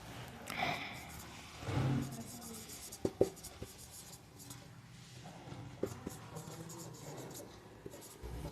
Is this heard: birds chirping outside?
no